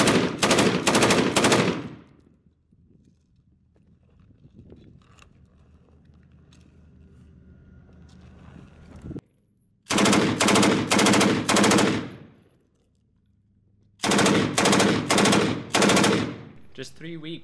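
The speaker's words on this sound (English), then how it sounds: "on December 15th, he took his M249 to the range." An M249 light machine gun fires long, loud bursts of rapid automatic shots at a firing range, three separate bursts broken by quieter gaps of background noise.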